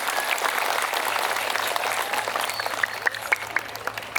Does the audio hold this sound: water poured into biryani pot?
no